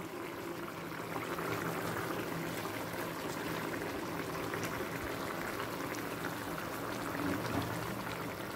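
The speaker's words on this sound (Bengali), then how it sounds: "ঝোলটা ফুটতে শুরু করে দিয়েছে। এই সময় দিয়ে দিচ্ছি ভেজে রাখা ছানার বড়া।" Gravy bubbles at a steady boil with fried chhana bara added to it, a continuous soft burbling and hiss that stays fairly faint and even throughout.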